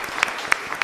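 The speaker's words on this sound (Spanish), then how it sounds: "Fuerte aplauso entonces al Señor." A church congregation at a chapel Mass claps in brief applause, a few distinct sharp claps spaced out over a soft background of scattered clapping, close and moderately loud.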